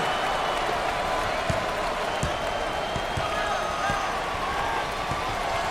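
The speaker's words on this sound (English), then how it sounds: "Listen to the crowd. You can cut the intensity with a knife." Arena crowd noise from the NCAA Basketball 09 video game, a steady continuous roar with a few sharp ball bounces and a commentator talking over it throughout.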